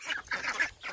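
Baby ducks and chickens at a morning feeding give a quick string of short, nasal peeps and squawks, close and fairly clear, several calls in about a second.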